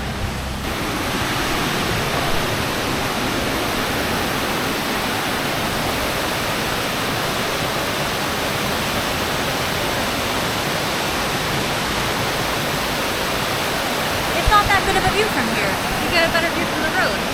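Waterfall in the Ella tea country of Sri Lanka, a steady, dense roar of falling water that stays loud and even throughout, close by, with no clear voices over it.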